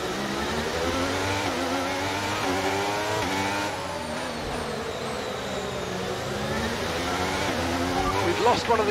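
An F1 car in the video game F1 23, its gearbox damaged, roars and revs continuously, its pitch climbing and dropping through the gears with a rough, strained quality.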